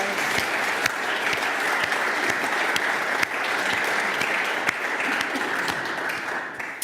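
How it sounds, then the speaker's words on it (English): Audience applause after a presentation at the Berlin launch of the Lancet Commission on medicine, Nazism and the Holocaust: steady, even clapping from a seated crowd, with a few sharper individual claps standing out and no voices. "I think we should give her an applause"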